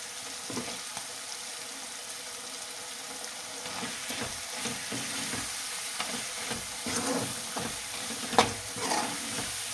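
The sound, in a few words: goat tripe curry frying in oil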